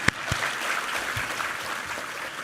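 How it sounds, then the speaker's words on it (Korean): A church congregation at a Sunday worship service claps in praise, a steady wash of applause held through the short stretch, with a few louder claps near the start. "우리 하나님께 감사와 영광의 박수 올려드리겠습니다"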